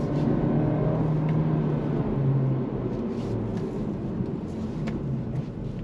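A 2025 Acura Integra A-Spec under throttle, a loud sustained engine roar with a rising tone, holding strong then easing slightly toward the end, no talk over it.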